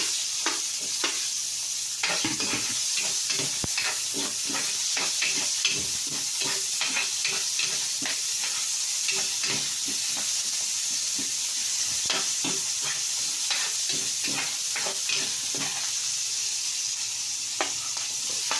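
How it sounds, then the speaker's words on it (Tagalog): Garlic and then onion sautéing in frying oil for a Filipino fish and bihon dish, a steady close sizzle and hiss broken by frequent scraping stir strokes, with no talk. "Ayan, igisa na natin yung bawang. Tapos sibuyas."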